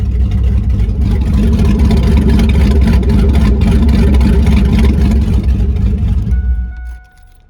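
A cammed Camaro F-body V8 idling right after a cold start, a loud, close, rough rumbling idle that holds steady for several seconds before cutting off.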